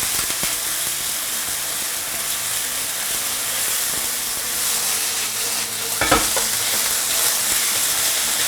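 Beef stir-fried in a hot wok gives a loud, continuous hissing sizzle with occasional clatter from tossing and stirring, close and steady throughout.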